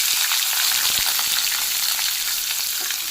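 Onions frying in hot oil in a kadai after peanuts, a loud, dense, continuous close sizzle with light stirring, no voices.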